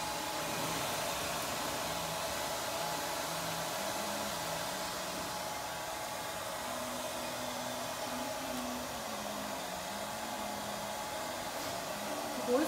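A hair dryer blows steadily at close range while hair is dried indoors at home, a constant airy roar with a faint wavering tone underneath and no clear speech.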